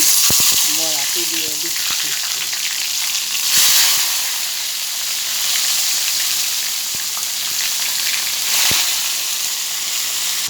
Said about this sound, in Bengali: তেলটা গরম হয়ে আসছে একে একে বড়াগুলা দিয়ে দেব